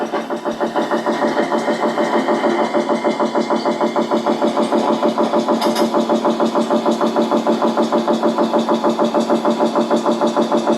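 A machine runs steadily underground in a suspected tunnel, with a fast, regular mechanical pulsing, loud and close, continuing without pause.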